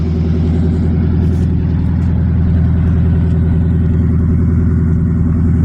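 An old car engine idles close by, a steady low rumbling exhaust with an even pulsing beat and no talk.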